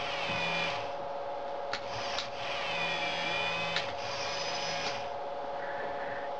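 Small electric motor of a Meccano robot arm driving the gripper support arm in and out, a steady whirring drone with brief clicks and gear chatter at start-stop moments, close and continuous.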